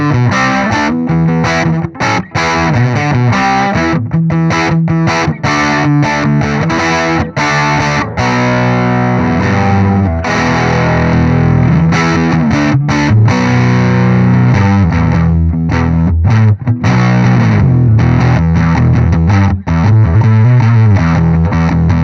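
An electric guitar with humbucker pickups plays loud, thick fuzz through a Cornell Legacy Fuzz pedal, alternating chords and riffs with brief gaps and no voice.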